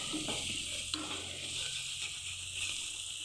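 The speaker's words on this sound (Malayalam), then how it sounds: "മീഡിയം ഫ്ലൈമിൽ വെച്ചതിന് ശേഷം വഴറ്റി കൊടുത്താൽ മതി" Ginger and garlic sautéing on medium flame for a vegetable kurma, a faint steady sizzle with a few soft stirring clicks and a low hum underneath.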